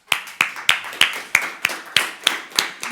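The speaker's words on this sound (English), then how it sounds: "So give the Pause Shop a round of applause." Steady, evenly spaced claps ring out at a pitch-night event, roughly three per second, sharp and fairly close, sounding like a small group or a single clapper rather than a full crowd.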